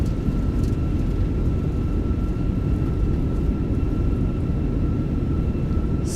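Thrust reversers roar on a British Airways Airbus A320 landing in the flight simulator game MSFS 2024: a steady, dense low-frequency rumble that holds evenly throughout with no voices.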